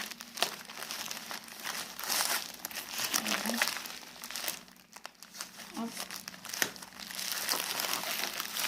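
Plastic packaging on a Bluetooth joystick is torn and crinkled open up close, giving loud rustling and crackling in bursts while a person talks over it.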